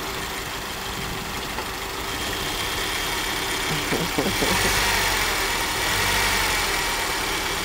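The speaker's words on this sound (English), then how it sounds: "When your engine ready to die on you." A car engine idles with a rough, uneven rumble throughout, while a person laughs briefly partway through.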